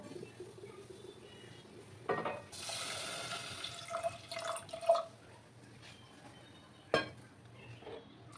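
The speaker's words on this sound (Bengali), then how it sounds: "এবার আমি জলটা দিয়ে দেবো।" Water is poured into a pressure cooker holding lentils in a short gush, followed by a few splashes and drips and a sharp clink of metal near the end.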